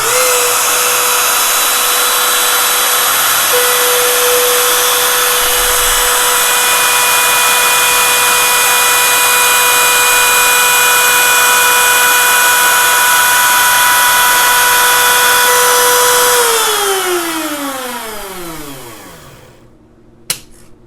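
A router cuts a saddle slot in a guitar bridge using a routing jig, a loud steady high-pitched whine running continuously before winding down and fading to silence near the end.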